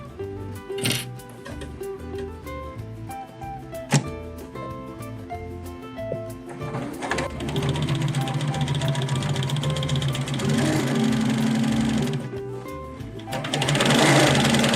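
Sewing machine stitching a grocery tote bag: short starts with clicks, then a sustained rapid mechanical whir running in bursts, alone without talk.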